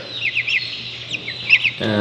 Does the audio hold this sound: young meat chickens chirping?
yes